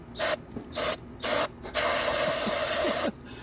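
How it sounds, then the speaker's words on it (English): Several short, sharp sprays of starting fluid aerosol hiss in quick bursts, then one longer continuous spray, close and fairly loud. "When I spray this instant start in there,"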